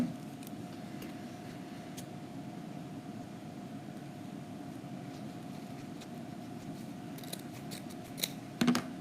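Scissors snip through wreath-making material along curved edges, a steady series of soft cuts close by, with a few sharper snips near the end and no talking.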